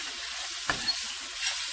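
Cooked grilled chicken stirred in a hot pan, a steady close sizzle with one brief scraping stir partway through.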